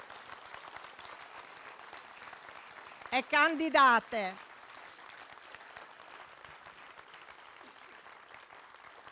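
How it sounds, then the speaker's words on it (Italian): Steady applause from an audience at a political event in Sassari, continuous clapping throughout, while someone speaks briefly over it near the middle. "Quindi un altro applauso per i nostri candidati"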